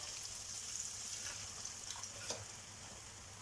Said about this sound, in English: Adding some water.